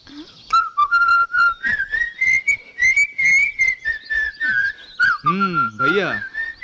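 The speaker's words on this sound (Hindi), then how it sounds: "भैया ये सीटियाँ किस खुशी में बजाई जा रही है, जरा बताएंगे मुझे?" People whistle loudly and close by: one long sustained whistle with bending, warbling pitch, joined near the end by sharper rising and falling whistles.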